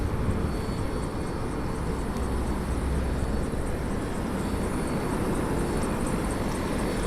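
Helicopter passing over New York City, a steady, loud broadband rotor and engine roar that holds evenly throughout with no speech.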